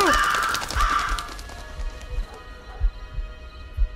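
Crows in the VR game Paranormal Activity: The Lost Soul give a couple of harsh caws at the start, loud and close, fading into quiet ambience with scattered low thumps.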